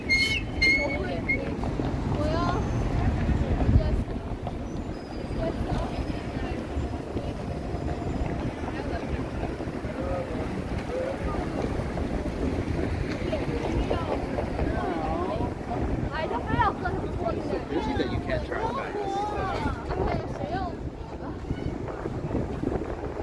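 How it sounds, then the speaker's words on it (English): Gusty wind buffets a microphone outdoors in downtown Toronto on Black Friday, a steady low rumble lasting throughout, with a person talking over it. "This wind is all over the place. Comes from all four directions within the space of 30 seconds."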